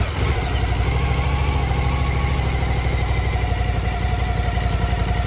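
Suzuki DL1000 motorcycle fitted with a LeoVince L12 exhaust fires up and settles into a steady, loud, deep idle close by, with a continuous throbbing rumble and no talking.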